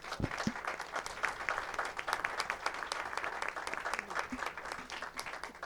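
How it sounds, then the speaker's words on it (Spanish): Dense, steady applause from a conference audience at a sustainability and development event fills the room, continuous crackling claps holding at an even level throughout with no talk over it. "un aplauso se merecen enorme, ¿verdad?"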